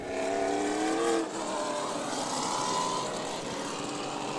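Late model race cars roar around Irwindale Speedway, several engines droning and rising as they pass, loud and continuous with fading and swelling engine notes, no talk.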